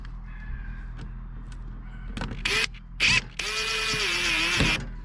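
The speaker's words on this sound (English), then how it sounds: "I'm going to mount this box back up. It's 2 screws here and 2 screws at the bottom." A power screwdriver drives screws to remount the control box on a Smoke Hollow electric smoker, several short whirring bursts, the longest about a second, close and fairly loud with quiet gaps between.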